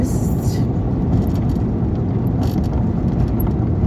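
A car passing along a village street, a steady broadband engine and tyre rumble at close range, with someone talking over it.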